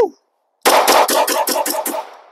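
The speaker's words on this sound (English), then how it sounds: "Let's get some rounds downrange." A rapid string of about seven loud gunshots from a firearm at an outdoor shooting range, sharp evenly spaced cracks close by, after a brief silence.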